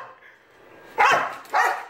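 A dog barks twice in quick succession, loud and close, after a short quiet stretch with no other clear sound.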